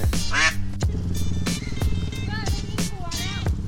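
Several ducks quack loudly and close by in repeated bursts while being released into a pen, over an idling engine hum and some nearby chatter.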